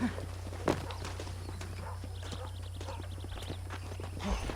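Steady clip-clop of horse hooves walking at an even pace in Red Dead Redemption, mid-distance, over a constant low hum with faint chirping.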